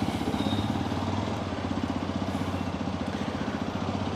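A Hero XPulse 210 motorcycle engine, running after a head replacement, idles steadily close by with an even, fast low thump and light mechanical clatter throughout, no talking.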